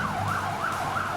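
A wailing emergency siren from fire trucks and ambulances responding during a Gyeongju fire station disaster drill, rising and falling in a smooth continuous sweep, loud and near, with no talk.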